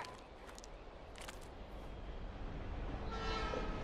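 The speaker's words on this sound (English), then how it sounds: "Oh, that's the train." A train approaches in the video game Life Is Strange, a low rumble that grows steadily louder, with a horn-like tone sounding near the end.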